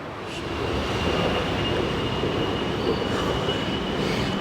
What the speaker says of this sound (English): Titiwangsa station, that's the train heading to Sentul Timur.